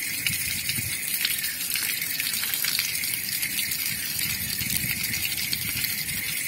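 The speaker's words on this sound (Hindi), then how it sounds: "टेस्ट करने के लिए पानी थोड़ा निकालता हूँ इस टंकी में से" Water gushing out of the outlet of a solar water heater tank, a steady, loud rushing and splashing flow that continues unbroken from start to finish.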